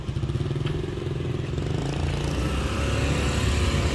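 A Grab motorbike taxi engine runs close by in Vietnam, a steady buzzing putter with some mechanical clatter, holding loud and even throughout with no talking.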